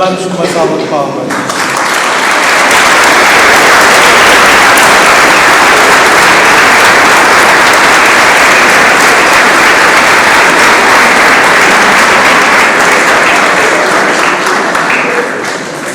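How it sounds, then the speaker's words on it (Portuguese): A large crowd claps loudly and continuously at a scout promise ceremony, a dense sustained wash of applause building after a brief spoken moment and holding steady before easing at the end. "Nós aclamamos com uma salva de palmas."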